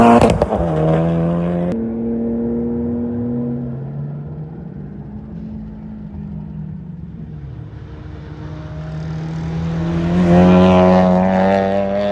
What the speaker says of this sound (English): CTR coming through here.